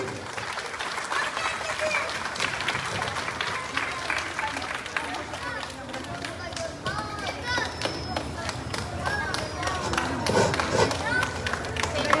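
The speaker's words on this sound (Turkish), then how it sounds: "Kocaman alkışlıyorsunuz İpek'i" A school crowd applauds a student at a first-term report card day ceremony, dense steady clapping throughout with chatter and a voice mixed in underneath.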